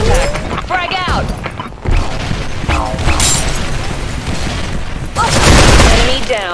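Grenade blasts and gunfire in the Special Force 2 shooter game, with bursts and booms through the clip and a heavier blast near the end, all layered under constant voice chatter and game voice lines.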